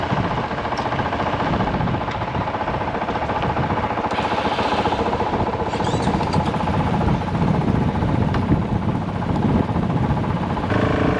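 Dirt bike engines run loud and close, holding a steady rough mechanical drone while the bikes are moved. A few revving surges and clatters rise out of the continuous noise.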